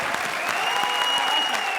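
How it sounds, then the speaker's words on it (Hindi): A studio audience at a comedy show claps steadily and densely, a loud sustained burst of applause filling the whole moment with no break. "आप तालियां बजा रहे हो"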